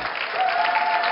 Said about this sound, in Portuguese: Um grande aplauso para a Fátima Cardoso.